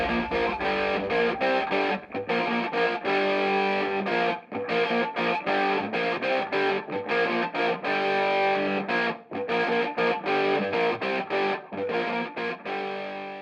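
Electric guitar played through an Origin FX Deluxe 61 direct preamp, dialed to a crunchy early rhythm tone: driven, distorted chords strummed in a steady, choppy pattern with brief gaps between phrases, loud and up front.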